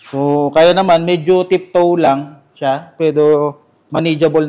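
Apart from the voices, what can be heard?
No distinct noise like a dog, phone or traffic.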